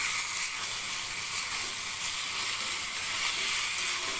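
Cauliflower sautés with spices in a pan over a medium gas flame, giving a steady, fairly loud crackling sizzle that stays even throughout with no talking.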